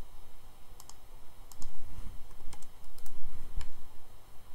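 A computer mouse clicking in CAD software, sparse sharp clicks in small clusters over a quiet background, close and moderately loud, with no talking.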